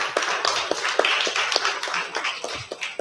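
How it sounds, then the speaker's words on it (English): Audience applause at a Sunday morning satsang service, a small crowd clapping with distinct sharp individual claps fading toward the end, fairly close. "I think they deserve another round of applause."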